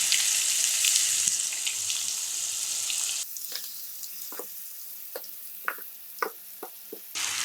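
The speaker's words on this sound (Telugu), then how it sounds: "ఇప్పుడు మిక్సీ వేసుకున్న మామిడికాయ పచ్చడి ఇందులో వేసుకొని కలుపుకుందాం." Ground raw mango chutney tipped into a hot tempering, starting as a loud steady sizzle that cuts out abruptly and gives way to quiet scraping and stirring clicks in the pan.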